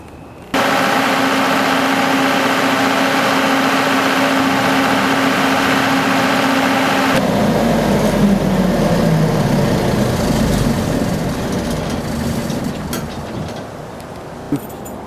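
A generator starts abruptly and runs with a steady, loud engine drone and hum, its tone shifting partway through as the load settles, continuing close without talk.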